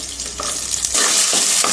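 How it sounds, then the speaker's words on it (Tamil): Steady hiss and crackle of spices, vadagam and garlic frying in hot oil for a fish curry, with occasional stirring scrapes; no voices. "இது நல்லா வதங்கட்டும்."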